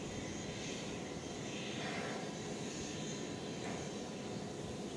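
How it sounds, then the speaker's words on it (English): An aircraft taking off from runway 18 right at DFW airport, with steady engine roar and broadband rumble from a fair distance, fairly faint and continuous, no voices. "Well, here we go, a rare 18 right takeoff."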